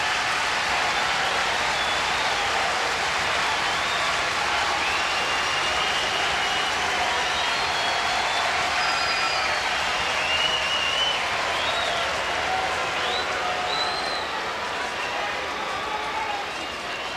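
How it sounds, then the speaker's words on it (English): Baseball stadium crowd at the 2010 College World Series finals between South Carolina and UCLA, cheering and applauding continuously in a dense, roaring wash, with a commentator's voice layered over it. "the crowd comes to a crescendo with every pitch"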